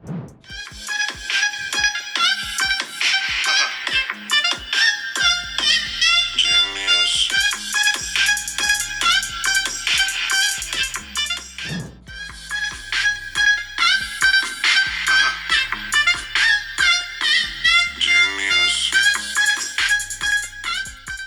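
Music playing through the loudspeaker of a Realme Narzo 30 Pro 5G phone, a steady, full and fairly loud track with a beat and melody that runs on without pause, no voices over it.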